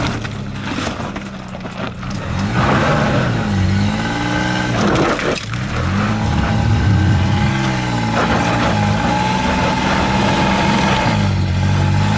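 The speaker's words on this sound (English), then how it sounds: "The driver is throttling more actively." A Nissan Pathfinder SUV driven off-road over rough, rocky ground, its engine revving and surging steadily under heavy throttle for several seconds, close and loud with no talking.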